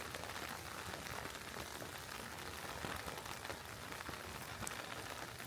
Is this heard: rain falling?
yes